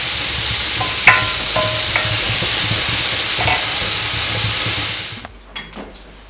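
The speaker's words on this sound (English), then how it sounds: "So roast them for just few seconds." Grated coconut roasting in a hot pan, a loud continuous sizzle with several metallic scrapes of a spatula stirring, cutting off abruptly near the end.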